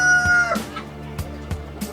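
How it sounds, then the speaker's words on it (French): Laying hens cluck and murmur close by on a poultry farm, with a few sharp rising calls over a steady low background hum. "Ce sont des poules de ponte."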